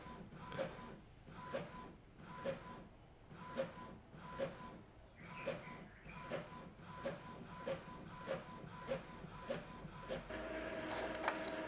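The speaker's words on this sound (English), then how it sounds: "Now the printer is just, I think, refilling the ink, so it's making noise." An inkjet printer whirs quietly with a regular mechanical clunk about every second, its carriage sliding back and forth in a steady rhythm.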